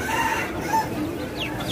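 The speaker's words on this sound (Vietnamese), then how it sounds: "Gà này là gà trưởng thành ông ơi." Chickens cluck and a rooster crows at a Vietnamese pet and livestock market, busy overlapping bird calls close by, with people talking underneath.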